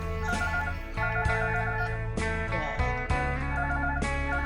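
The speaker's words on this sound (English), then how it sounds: "The phone is ringing, so let's just hold on that." A telephone rings repeatedly in a home kitchen during a Jell-O making session, its harmonic electronic tone pulsing in a steady rhythm and filling the room at close range.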